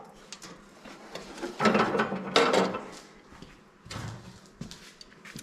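A stuck metal hose clamp is worked off a hardened fuel line under the tank of an MTD drag-racing lawn mower, heard as close scraping, clicking and ratcheting bursts, two louder grinding pulls in the middle and scattered small clicks.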